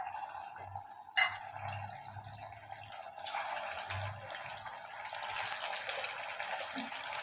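Chicken pieces fry in hot oil, a steady soft sizzle and crackle that swells after a sharp splash as the pieces go in, close and fairly quiet, with no talking.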